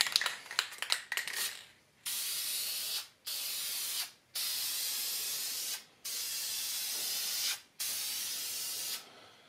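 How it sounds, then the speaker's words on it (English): Several bursts of Deft satin lacquer hissing from an aerosol can onto a walnut band saw box, about five steady sprays of a second or so each, separated by short pauses, after a few quick clicks. "it's time to spray some finish on here. I'm going to go with the Deft Satin Lacquer Spray."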